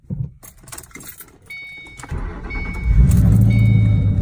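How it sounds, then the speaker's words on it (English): A 2007 Ford Mustang GT V8 cranks and fires up after keys jangle, catching into a loud, steady idle that builds and holds close by. "car actually fired up pretty good that time"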